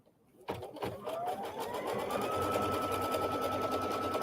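A sewing machine runs a tack down stitch through quilt batting, starting with a few quick needle strokes and then settling into a steady, close, continuous whir with no talking.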